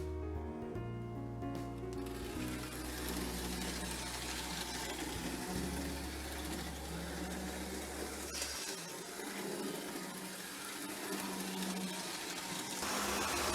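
A model train engine runs on a 4x4 layout extension, a continuous mechanical whir and rumble of the small motor and wheels on track, fairly faint and steady with low hum throughout.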